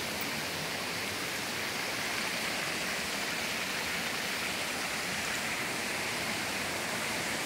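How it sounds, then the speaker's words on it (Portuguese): Water pours from a spout at a roadside waterfall in Brazil, a steady, dense rushing splash that holds unchanged and fairly close throughout with no voices. "esse ali é a bica caindo ali"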